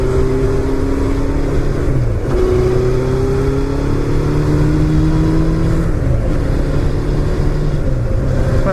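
A Yamaha FZS600 Fazer motorcycle is ridden along a road, its engine loud and close, droning and climbing in pitch through each gear, with brief dips at two gear changes.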